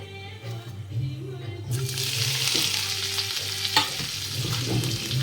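Whole cumin seeds are dropped into hot mustard oil in a kadai, breaking into a loud, bright sizzle that builds and stays steady over a low background hum, with an occasional utensil clink.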